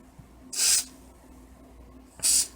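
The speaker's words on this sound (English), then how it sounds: "I have this huge thing of a spray. I'm gonna spray my" A huge aerosol spray can gives two short, close hissing bursts, separated by a quiet pause, during a Christmas craft project.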